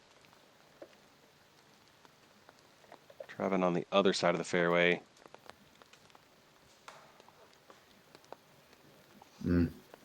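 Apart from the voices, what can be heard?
rain falling on a golf course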